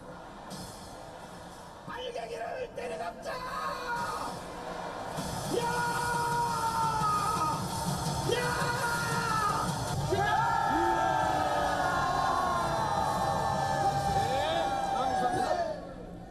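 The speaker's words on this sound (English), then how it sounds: "surrounded by a sea of supporters waving South Korean flags and shouting slogans in his support" A large crowd of supporters waving South Korean flags yells, whoops and chants slogans outdoors, building from scattered shouts into a loud, sustained roar of overlapping voices and chanted phrases.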